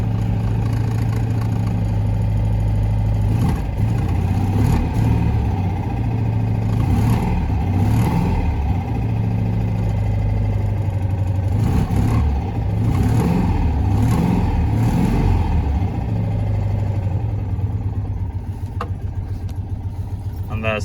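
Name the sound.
Citroen 2CV two-cylinder engine running after cold start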